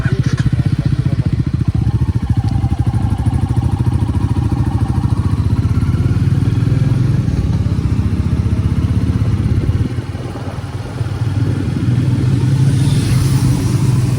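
A Kawasaki Z900 sport motorcycle engine roars loudly and steadily throughout, with throttle blips and revving rising near the end.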